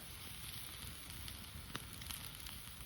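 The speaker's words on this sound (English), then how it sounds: "Plenty sizzling." Sausages sizzle and spit steadily while cooking to a heavy char over high heat, a dense, even crackle with occasional sharper pops and no talk.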